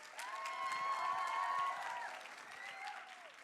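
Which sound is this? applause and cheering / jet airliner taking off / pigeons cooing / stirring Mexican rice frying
applause and cheering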